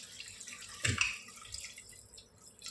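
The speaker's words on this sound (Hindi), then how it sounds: "मैं पानी डाल रही हूँ इसके अंदर" Water is poured into a cooking pot holding mutton for khichda, a short splash and trickle near the start, then soft drips and faint kitchen sounds, quiet and close.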